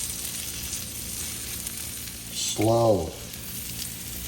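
A grilled cheese donut fries in a pan with a steady, close sizzle throughout. A voice briefly speaks over it near the end.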